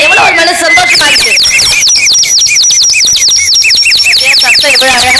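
Many birds chirp and sing in quick repeated calls, loud and close, at a scenic spot with deer, peacocks and waterfalls.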